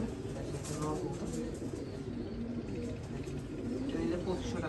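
Racing pigeons coo in soft, steady murmurs at a pigeon farm, low and continuous under a voice talking throughout.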